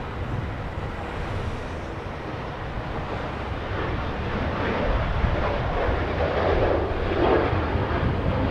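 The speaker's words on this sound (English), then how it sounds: "Let's go take a look at the 737." A Boeing 737 at Los Angeles International Airport gives a steady broadband jet engine roar that swells gradually louder over several seconds, with no talk.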